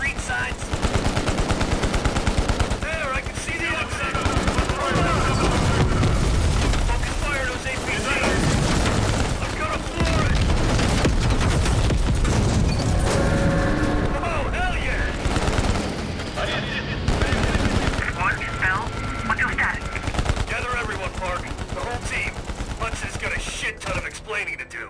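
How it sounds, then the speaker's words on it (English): Gunfire in the Call of Duty Cold War video game, dense and nearly continuous bursts of automatic shooting and blasts across the whole stretch, loud and sustained, with voices talking now and then underneath. "Keep shooting."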